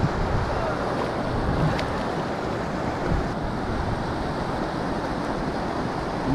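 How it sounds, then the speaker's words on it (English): Strong, gusting wind buffets the microphone on a riverside fly-fishing trip for trout in Northern California, making a loud, continuous roar that fills the whole stretch. "So fucking windy."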